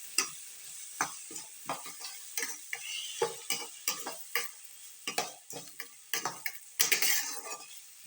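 Tomatoes sautéed with salt in a pan while preparing horse gram soup, with steady sizzling under repeated scraping stir strokes of a spoon, close and fairly quiet, no talking.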